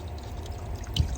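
Tap water running into a small sink inside a camper van, a short quiet pour with a brief louder splash near the end.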